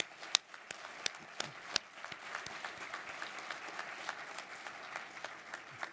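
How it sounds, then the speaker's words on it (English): Sword-casting competitors at an awards ceremony applaud themselves in a lively round of clapping. Several sharp, close claps stand out early, then the applause settles into a steady, moderate patter. "Give yourselves a round of applause."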